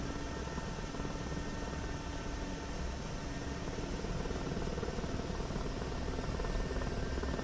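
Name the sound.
Mi-8 helicopter engine in a flight simulator video game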